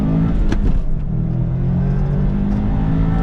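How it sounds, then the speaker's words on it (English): Subaru WRX STI engine running with a loud, steady, grumbly low drone and a slight rise in revs near the start, heard up close with no talking. "And the Subaru also has its own kind of grumbly charisma."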